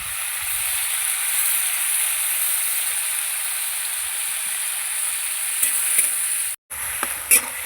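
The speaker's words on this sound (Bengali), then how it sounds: "এবার বাটা মশলাটা দিয়ে দিচ্ছি এখানে আছে সর্ষে আদা কাঁচা লঙ্কা দিয়ে দিচ্ছি একটু জল দিয়ে কষিয়ে নেবো" A paste of mustard, ginger and green chili with a little water sautéing in a pan, giving a steady, even hiss of sizzling, then a few spoon scrapes and a brief gap near the end.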